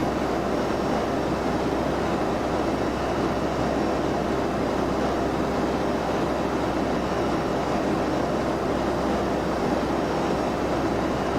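A Boeing 757-300 takes off in the flight simulator X-Plane 12, its jet engines producing a steady, loud, broadband roar that holds constant throughout without voices.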